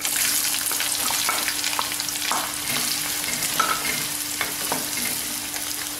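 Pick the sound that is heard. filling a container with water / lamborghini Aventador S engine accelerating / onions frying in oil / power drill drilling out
onions frying in oil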